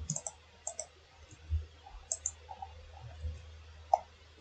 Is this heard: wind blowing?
no